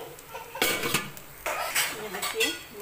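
Metal lid set onto a pan of capsicum sabji, heard as several close clinks and clanks of cookware at moderate loudness, with a quieter clatter after each.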